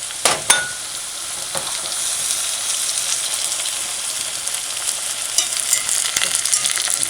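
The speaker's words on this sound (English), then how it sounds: "I'm sauteing the onions because I like my onions sauteed" Onions and garlic sizzle steadily in a pan on a stovetop set to medium-low, with seasoning added; a continuous close frying hiss carries a couple of sharp utensil clicks early on and no talking.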